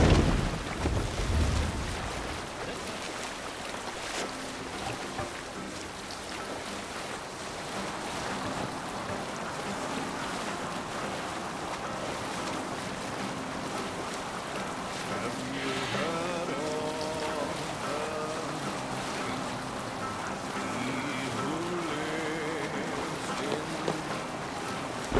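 A sailing ship at sea in Assassin's Creed Valhalla, with steady rushing wind and water wash around the hull, a continuous broad roar at moderate volume with creaks and faint voices mixed in.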